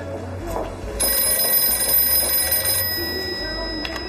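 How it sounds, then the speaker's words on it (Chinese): A telephone rings indoors in a quiet office scene, a steady electronic bell tone sounding continuously for several seconds at moderate loudness, with faint voices in the background. "哦，你等一下，金经理电话。"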